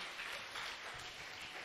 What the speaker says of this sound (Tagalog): Come on, palakpak mo ang kamay mo para kay Lord.